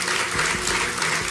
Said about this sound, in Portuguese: a hipnoterapeuta Rosa Basto, para quem eu peço já um grande aplauso.